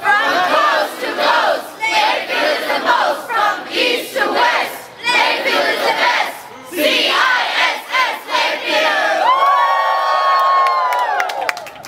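Summer camp group at Lakeview Camp shouting and cheering together in a loud, rhythmic cheer challenge chant, bursts of group voices rising and falling, ending in a high sustained whoop and cheering.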